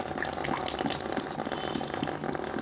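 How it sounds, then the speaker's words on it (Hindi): Water pours from a nostril during a jal neti nasal rinse with a lota, a steady close-up splashing trickle that runs without pause and with no talking. "आधा लोटा एक नासिका से, हम इस प्रकार से पानी को निकाल लेते हैं"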